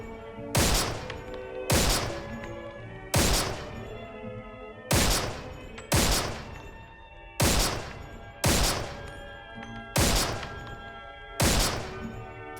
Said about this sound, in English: rifle was a powerful support weapon firing the .308 round